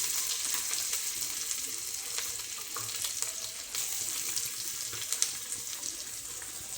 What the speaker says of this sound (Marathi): कांदाने एकत्र टाकते कारण का तेल गरम झालं आहे